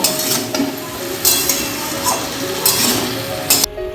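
Okra and potatoes being stirred in a frying pan with salt, as a spatula scrapes and clinks against the pan over a steady sizzle, with sharp bursts of stirring in between.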